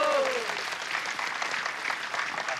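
An audience at a gathering breaks into applause, a dense, steady wash of many hands clapping close by at fairly high volume throughout, with a brief voice at the very start.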